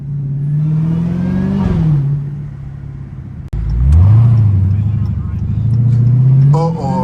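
A 700-horsepower Dodge Hellcat's engine revs and accelerates in two loud surges, dropping off sharply between them, while someone talks over the engine noise.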